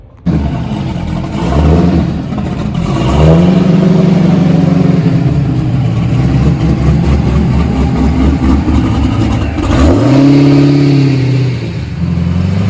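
A C6 Corvette V8 on a chassis dyno, fitted with an ESS kit, revs loudly in two rising pulls with a steady engine drone between them, close and without talk.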